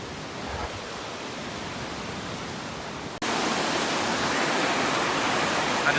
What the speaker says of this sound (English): it's fast moving water.